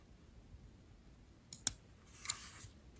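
Scissors snipping threads along a fabric edge after coverstitch sewing, two or three faint close clicks over quiet room tone.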